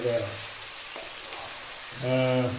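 Sliced onions softening in a hot pan for a chicken curry made with cow's milk, a steady sizzle running throughout, with a voice speaking briefly at the start and again near the end.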